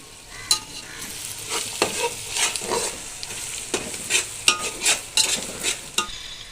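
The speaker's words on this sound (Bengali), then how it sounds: "আর পেঁয়াজটা ভাজছিল" Onions fry in a pan beside already-fried potatoes, a close sizzle broken by repeated scraping stirs in an irregular rhythm, with no talking.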